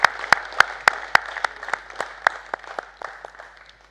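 Scattered claps ring out from an audience at a televised anniversary celebration evening, a dozen or so distinct loud claps, uneven and thinning toward the end.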